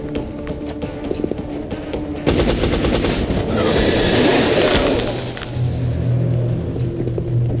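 A gunshot in the video game XCOM: Enemy Unknown, a sudden loud burst of game gunfire cutting in over quieter background game sound, followed by sustained noisy rumble.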